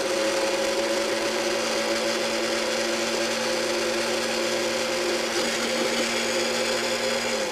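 A kitchen blender purees homemade salad dressing, a steady whirring motor drone that holds constant and fairly loud throughout, with no talking.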